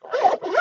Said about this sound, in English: so I can zip that up